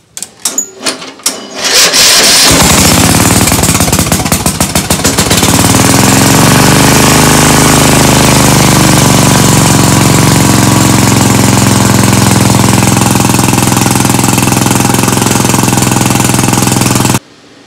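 Lawn mower engine sputters through a few false catches, then fires up and runs loud and steady with a hard, rattling knock.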